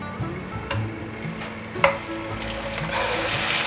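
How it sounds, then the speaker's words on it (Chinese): Tofu placed into a pan of cold olive oil begins to fry, a soft crackling sizzle building gradually, with a few spatula scrapes and taps against the pan and no speech. "冷油把豆腐放进来煎。"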